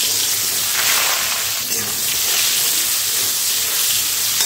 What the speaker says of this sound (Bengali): এই পটলগুলো আগে ভেজে নিতে হবে।